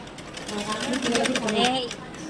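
A sewing machine stitches cloth in a steady rapid whir with fast rhythmic needle pulses, close and fairly loud for a couple of seconds.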